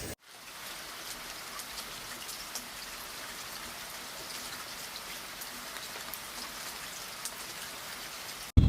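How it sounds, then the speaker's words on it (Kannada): Heavy rain pours steadily in Bangalore, an even, dense hiss of drops that keeps up without a break for the whole stretch, fairly close and with no talking. "ನಾವು ಹೋಗೋಣ ಅಂದ್ರೆ ಮಳೆಯೋ ಮಳೆ."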